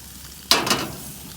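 A bone-in pork chop lands in a hot pan after being flipped, a sudden close burst of sizzling with a second surge, then a quieter steady hiss.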